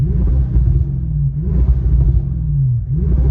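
A stationary Audi S7 engine rumbles deeply, revving up and down in a few repeated swells with a throaty, loud exhaust tone and some popping.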